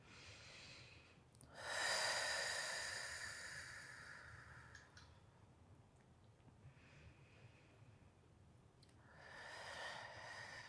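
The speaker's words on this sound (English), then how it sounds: "Big full breaths." Slow, deep breaths during a restorative Pilates Arc stretch for back pain relief: a long audible inhale or exhale, a quieter stretch, then another breath, soft and close with no speech.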